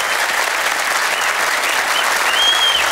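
Sustained applause from an audience at a televised Afghan music show, dense steady clapping at close range for the whole stretch with no voices.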